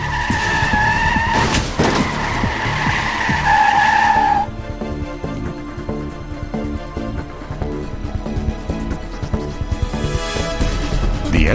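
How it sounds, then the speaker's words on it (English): A car skids during a sudden steering maneuver to avoid a collision, its tires squealing loudly and sharply for several seconds, followed by continuing road and engine noise, with no one speaking. "A sudden steering maneuver to avoid a collision, the vehicle starts to skid and you lose control."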